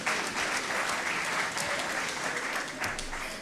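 An audience at an evening show applauds a performing artist with dense, continuous clapping that holds steady for a few seconds.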